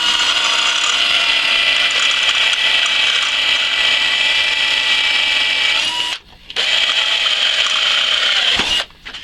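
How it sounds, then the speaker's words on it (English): A power drill fitted with a larger bit bores through a steel tube for notching, giving a loud, continuous whirring grind with two short breaks where the drill stops and restarts. "we're going to drill through this hole and then through the next one"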